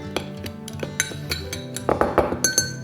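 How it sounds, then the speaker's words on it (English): A metal spoon stirs pancake batter in a mug, giving quick, bright clinks and scrapes against the mug that come in an irregular rhythm and grow busier toward the end. "I'm just using a spoon because we need it and I don't want to dirty another dish, and it can stir it together"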